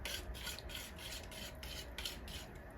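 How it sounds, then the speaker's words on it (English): A spoon or whisk scrapes and stirs thick old-fashioned caramel frosting in a pan, a soft continuous rubbing swish with faint rhythmic strokes, close and alone. "Just go ahead and stir it."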